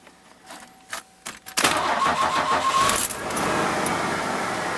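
A Ford F-150 engine cranks and starts after its belt was repositioned during thermostat replacement, preceded by a few clicks and key sounds, then a loud catch settling into a steady close idle.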